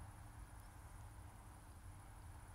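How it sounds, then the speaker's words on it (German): Faint crickets or grasshoppers chirping in the evening outdoors, a steady, continuous high buzz over a quiet background rumble. "dass ich hier die Heuschrecken oder Grillen"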